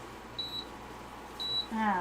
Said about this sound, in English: we'll get that beeping out of your ear.